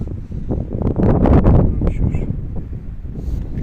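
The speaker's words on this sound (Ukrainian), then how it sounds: "Трошки вітряно, але від того не менш красиво." Strong wind on a rocky mountain buffets the microphone in rough, roaring gusts that swell in the middle and ease off toward the end.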